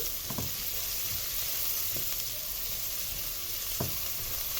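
Onion browned to a dark colour and then grated carrot sizzle in a pan, a steady close frying hiss broken by a few soft clacks of stirring.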